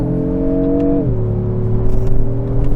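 A 2024 Lexus GX 550 SUV produces a steady, loud, artificially enhanced engine growl under acceleration, its tone dropping slightly then holding as a continuous hum inside the cabin.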